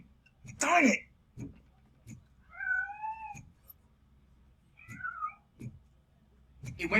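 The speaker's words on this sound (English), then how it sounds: "That cat must be hiding inside." Cat in the video game RoboCop Rogue City gives two distinct drawn-out meows, fairly faint, among soft clicks and a sharp scuffing burst, no talk.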